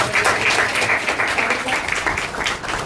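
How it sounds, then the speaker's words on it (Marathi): Sustained, dense applause from an audience honoring teachers at a gratitude ceremony held by a social and educational institution, steady and fairly loud throughout with no speech over it. "शशिकांत गुदाड सर यांच्यासाठी सुद्धा जोरदार टाळ्या"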